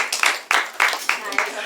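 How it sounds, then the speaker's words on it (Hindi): An audience claps in steady, rhythmic bursts for a contestant named Ruby at a quiz on Baahubali trivia; the claps are fairly close and sound like a small group. "रूबी के लिए तालियां बजाई जाए।"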